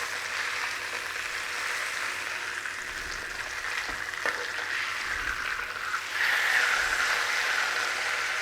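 Pork chops propped up on their edges sizzle steadily in a frying pan, a constant moderate hiss of hot fat with faint clinks of the pan and a slight rise in sizzle near the end.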